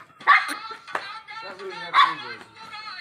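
Tommy the dog barks sharply twice about a second and a half apart, loud and close, between urgent shouting voices of people nearby.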